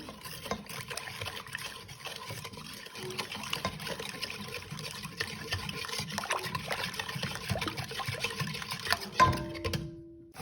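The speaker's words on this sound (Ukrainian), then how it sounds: "Тепер це все перемішуємо." Salted liquid rye bread batter is stirred in a bowl, giving a soft, continuous wet sloshing and swishing that stays fairly quiet, ending with a brief clink.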